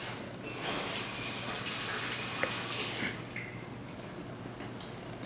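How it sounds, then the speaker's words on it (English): Running tap water rinsing a glass lab funnel at a chemistry lab sink, a steady close splashing gush with slight changes as the glass moves under the stream. "Here's a funnel. I'll give it a quick rinse."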